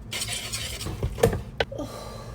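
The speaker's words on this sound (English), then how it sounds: "I may start off with a whisk first." A whisk stirs fufu dough in a pot, giving a few quick scraping, clattering strokes with brief knocks against the side, close and moderately loud, with no talking.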